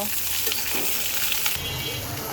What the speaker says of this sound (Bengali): এবার সব কিছু একসাথে কয়েক মিনিট ভেজে নেব